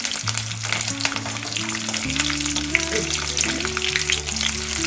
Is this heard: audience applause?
no